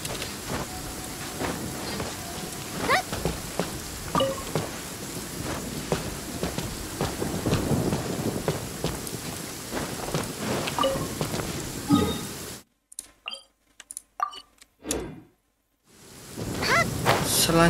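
Steady, dense rain pours in Genshin Impact's Liyue region, with rumbling thunder and sharp crackles running through it, then a sudden near-silent gap broken by scattered crackles before the downpour resumes.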